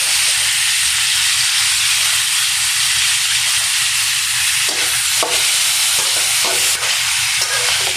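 Potatoes go into a pan of frying onions seasoned with salt. A loud, continuous sizzle runs throughout, broken by a few short scraping stirs.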